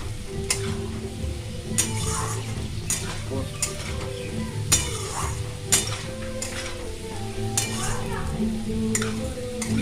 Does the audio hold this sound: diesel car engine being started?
no